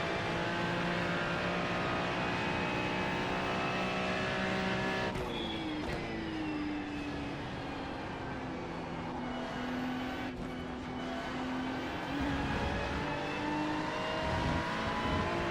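A Ferrari GT3 race car at Spa in the iRacing sim, its engine droning loudly and continuously at high revs, with pitch shifts as it changes gear and sweeps through corners.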